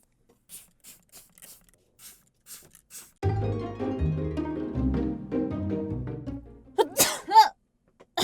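After soft scattered clicks and a stretch of whirring mechanical noise, a sharp, close sneeze bursts out near the end, followed by a short exhale.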